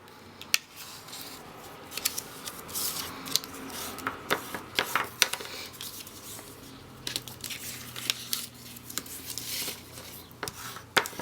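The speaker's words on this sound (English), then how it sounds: "fold on all our score lines. Make sure they're nice and crisp with our bone folder" Paper crinkles and creases in quick, soft bursts close by as an envelope is folded along its score lines and pressed crisp with a bone folder, with light taps and scrapes between folds.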